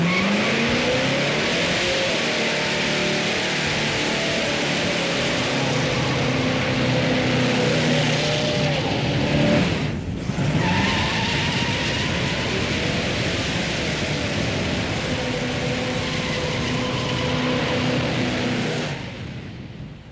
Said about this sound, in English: This thing does a great burnout